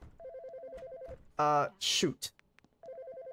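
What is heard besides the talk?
phone ringing in a video game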